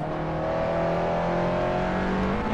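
In Assetto Corsa, a race car engine pulls hard in third gear with a steady, rising drone that stays close and loud throughout, with no talk over it.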